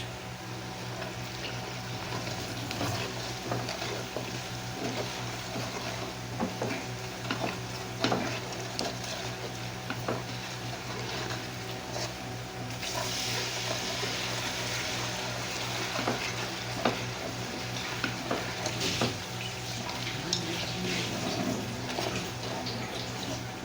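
Masala is stirred into browned, frying onions for a mixed vegetable pulao: a continuous close sizzle runs throughout with scattered spoon scrapes and clinks, and nobody talks.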